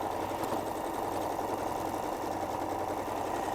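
A sewing machine stitching around the edge of a quilted star cushion, a continuous fast whirring hum with steady mechanical chatter, close and even throughout.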